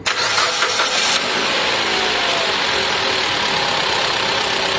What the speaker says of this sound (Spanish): damos marcha al vehículo